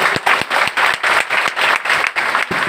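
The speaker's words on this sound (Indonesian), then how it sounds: "Tepuk tangan untuk beliau." Applause from an audience at an Islamic religious gathering in Mataram, honouring a former hadith teacher: steady, loud, dense clapping close by that runs throughout with a few sharper individual claps standing out.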